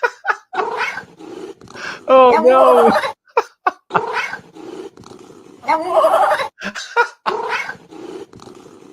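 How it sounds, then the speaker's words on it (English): A cat meows a few times, with drawn-out tonal cries near the middle and again later, mixed in among close, steady speech from people talking throughout. "He's so cute. He says meow."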